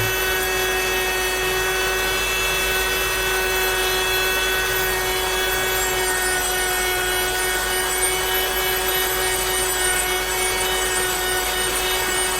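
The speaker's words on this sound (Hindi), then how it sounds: "मैं फिर से स्टार्ट करता हूँ और अब इससे मैं इसकी पॉलिश करता हूँ।" Uniqual rotary tool running steadily while polishing, a constant high-pitched motor whine with grinding rub that stays loud and unbroken throughout, with no talking.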